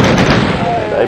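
An explosion in the classic Doom video game as the player blows himself up, a dense, loud blast of rumbling noise filling the whole brief moment without letup.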